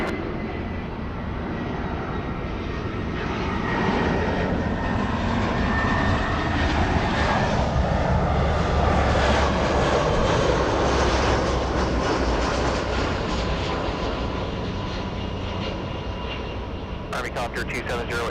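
A Delta Airlines Airbus A319 on runway 24 at LAX gives off a steady, loud jet engine roar that swells and lingers close by, with a voice talking over it near the end.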